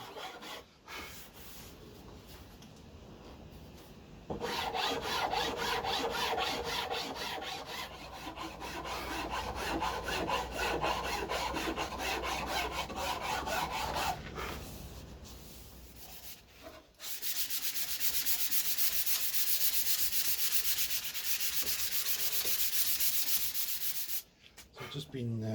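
Hand filing and sanding of a wooden piece, moving up through grits: long stretches of steady, close rasping and abrasive rubbing strokes, loud and continuous with brief pauses between passes, no talking.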